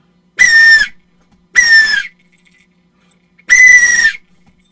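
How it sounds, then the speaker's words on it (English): Three loud, shrill blasts of a simple alert whistle used to raise alarm in a community, each about half a second long with gaps between, close and alone with no talk. "A whistle. Just a simple whistle to raise alert in the community."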